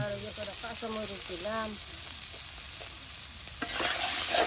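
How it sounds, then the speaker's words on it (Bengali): Chopped onions dropped into hot oil in a home kitchen, frying with a steady close sizzle and stirring, while a person talks over the first part. "এই যে এখন দিয়ে দেওয়া হলো এই গরম তেলে এই আর কিছু পরিমাণে পেঁয়াজ কুচি দেওয়া হচ্ছে"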